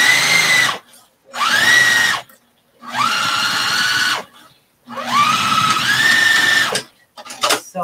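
Sewing machine stitching an extra large project bag briefcase, heard as four loud close bursts of high whining motor run separated by brief silences, then short stuttering starts at the end.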